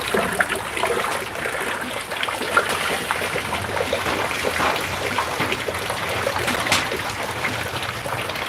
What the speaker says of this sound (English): I've put a very nice gutter here which brings water